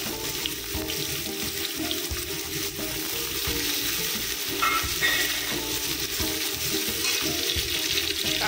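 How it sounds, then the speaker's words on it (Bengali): Chopped ginger and onion fry in a pan with a steady, close sizzle and occasional stirring scrapes for pulao, with faint watery clatter underneath and no talking. "আদা কুচি, পেঁয়াজ কুচি দিয়ে দিতে হবে।"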